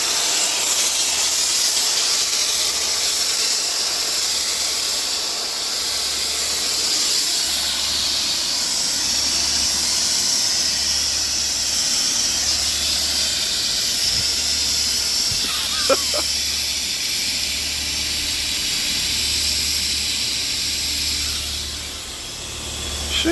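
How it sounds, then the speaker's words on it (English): An air conditioning compressor that has blown its terminals off vents a loud, continuous broadband hiss, steady and close, with a low pulsing hum beneath it and one brief sharp click partway through. "Yep, that compressor definitely went."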